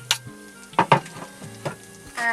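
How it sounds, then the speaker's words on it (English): Shallots frying in butter and olive oil in a pan in a motorhome kitchen, a soft continuous sizzle broken by a few sharp clicks and stirring scrapes, close by with no talk. "And now I'm adding some shallots that I chopped earlier"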